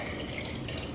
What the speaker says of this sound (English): So this I filled earlier, and I'm just going to pour some in here.